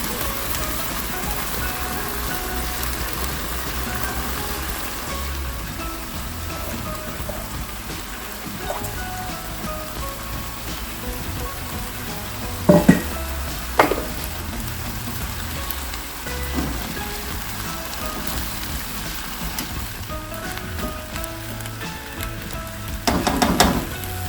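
Chicken stir fry sizzling steadily in a pan through the whole stretch, a dense hiss with a few brief clatters of stirring near the middle and end.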